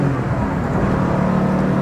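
A 1980 Porsche 911 SC Weissach pushed hard along a twisty road at close to 80 mph, its engine note a steady loud drone under continuous road and wind roar, with no talking.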